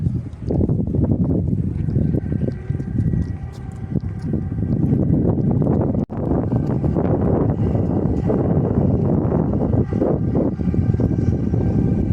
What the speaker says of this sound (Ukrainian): Вітерець трошки піднявся